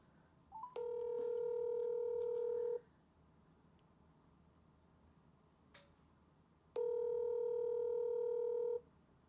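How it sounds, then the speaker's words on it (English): A phone rings out twice while calling a friend, each ring a long steady electronic tone lasting about two seconds, separated by a quiet gap with a faint click. "We're gonna call Orion, see if he answers."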